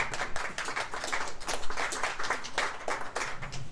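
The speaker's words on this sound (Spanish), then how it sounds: "Démosle un aplauso al Señor." A church congregation applauds with dense, sustained clapping that holds steady for several seconds.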